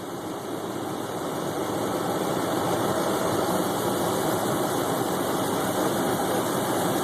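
A CNG-fuelled V8 engine idles steadily, a continuous low rumble with a constant even hum and no voices over it.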